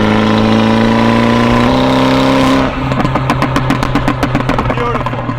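A stage 2 Audi TT 1.8T turbo engine holds a steady high rev, then switches to a two-step launch limiter, popping and crackling in rapid, sharp bursts, loud and close.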